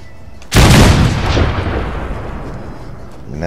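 A modded gun in Fallout 4 fires one loud, booming shot that rolls into a long decaying rumble, with only faint ambience after.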